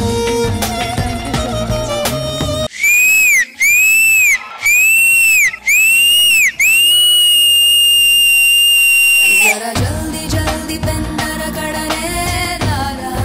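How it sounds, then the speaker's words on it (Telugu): A dance show judge on a Telugu television stage gives loud, piercing whistles: four short blasts and then one long sustained one, with music playing before and after. "నేను స్టడీ చేసి వచ్చి విజిల్ కొడుతున్నా"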